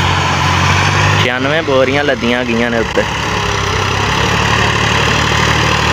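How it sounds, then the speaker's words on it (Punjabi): A tractor strains to haul a trolley loaded with 96 sacks up a slope on wet ground, its engine a steady, heavy drone running the whole time beneath someone talking. "ਟਰੈਕਟਰ ਦਾ ਸਾਰਾ ਜ਼ੋਰ ਲੱਗੀ ਜਾ ਰਿਹਾ"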